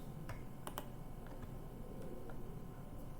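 A computer keyboard and mouse in use, with a few soft clicks and key taps, scattered and faint under a steady room hum.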